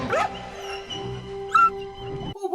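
A dog in an animated Christmas film whimpers and yips in short high whines, close and moderately loud over a steady tonal hum, ending abruptly.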